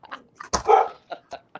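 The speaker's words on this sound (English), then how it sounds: "It's freaking my dog out." Dog barking indoors, a few short sharp barks and yips in quick succession, close and fairly loud, with no talk over them.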